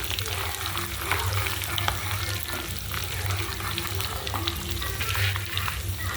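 Ginger pieces sizzle in hot tempering oil for pulihora, a steady, dense crackle and hiss close up that runs unbroken throughout, with no talking.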